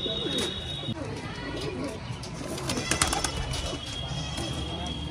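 Pigeons at a pigeon-flying tournament coo softly in the background, while people talk nearby throughout and steady outdoor noise fills the scene.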